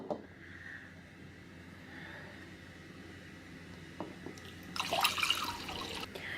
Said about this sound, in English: And I'm going to go ahead and pour this into here.